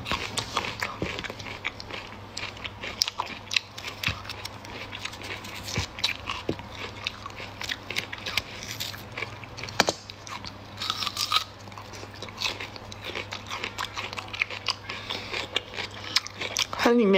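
Crunchy biting and chewing of cream-filled cookies or cake, close and fairly steady throughout, with frequent bright crunches over a faint background hum.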